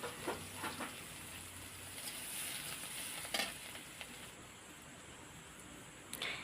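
Onion and green chilli tempering sizzling in oil on a clay stove, a quiet, continuous frying hiss with a few faint crackles and pops, heard alone at a moderate distance.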